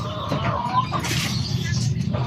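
Chickens clucking amid busy background noise and indistinct talking, fairly close and continuous.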